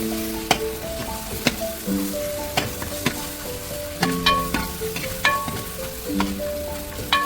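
Ginger, garlic and green chili paste sizzles steadily in hot oil for a chicken biryani masala, with sharp clinks and scrapes of a spoon stirring the pan throughout, close up and without talk.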